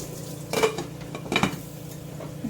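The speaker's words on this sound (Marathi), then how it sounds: "आणि वरून झाकण ठेवू" A metal lid goes onto a pan of bun dosa batter cooking on low heat, giving two distinct clanks about a second apart and then a softer clink against faint background hiss.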